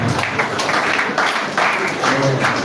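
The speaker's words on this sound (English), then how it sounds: "So a round of applause for" A seminar audience offers scattered applause for a speaker, uneven clapping mixed with voices talking over it.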